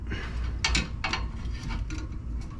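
A fuel line fitting being loosened with a wrench: a few close, sharp ratcheting clicks in short bursts, spaced irregularly over a couple of seconds.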